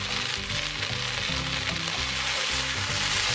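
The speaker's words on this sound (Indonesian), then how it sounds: "Ini akan saya masak sampai airnya ini kering." A sauce of chicken in bulgogi or teriyaki-style glaze steadily simmering down in a pan, a continuous dense sizzle and bubbling that runs loud and close throughout with no voices.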